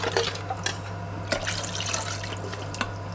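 About 800 ml of broth is poured into a cooking pot, a soft, continuous liquid trickle with small splashes over a low steady hum, faint and close.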